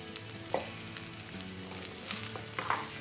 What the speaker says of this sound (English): You need to stir fry them properly